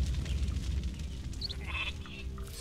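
Sheep bleating in the Viking strategy video game Northgard, a few short bleats over a busy, rumbling game soundscape with no speech.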